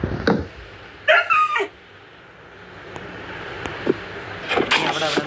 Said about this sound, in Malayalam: അവിടെ എന്താ പട്ടി കിടന്ന കാര്യം